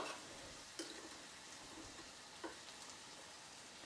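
Tomatoes sauté in a pan for masoor dal tadka, a faint, steady sizzle broken by two soft clicks of a stirring spoon.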